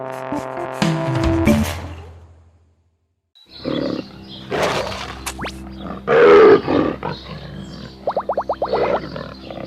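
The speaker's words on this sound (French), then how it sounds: "le lion est le roi des animaux" Deep, loud lion roars and growls come in several bursts after a short silence, rising and falling, with some sharp cartoonish sound effects mixed in.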